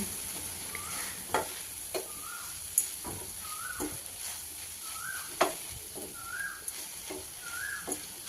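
A spoon stirs spice masala with turmeric and homemade garam masala into a beans curry in a pan. It gives soft, irregular scraping and stirring knocks over a faint sizzle, while chirping birds repeat in the background.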